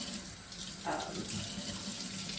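Two bottles being rinsed under a running kitchen tap: a steady stream of water splashing into a sink, close and even, with a faint low background hum.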